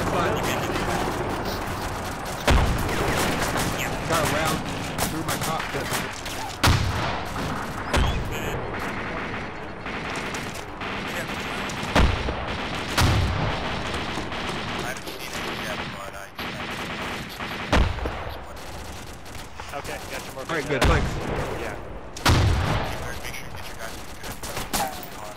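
Heavy gunfire in a military video game, with rapid bursts of rifle and machine-gun fire and loud single shots sounding throughout, while voices talk over the shooting.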